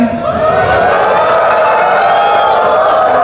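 A large crowd at an outdoor community event in Negeri Sembilan, Malaysia, cheers and shouts continuously, a loud, sustained roar of many voices filling the space.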